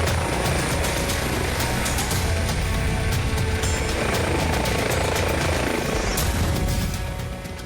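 An air ambulance helicopter drones loudly and steadily, its rotor throb and engine roar continuous, fading slightly at the very end.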